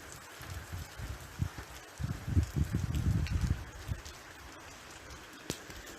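Heavy night-time downpour over city streets in Şanlıurfa, a dense steady hiss of rain with a rougher, louder patch of splashing drops in the middle, no voices.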